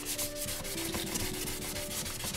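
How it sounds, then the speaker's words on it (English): Sandpaper rubs in steady back-and-forth strokes over painted bodywork on a Benelli motorcycle fairing, a close, soft, continuous scratching with no voices. "I've tried to sand out each coat"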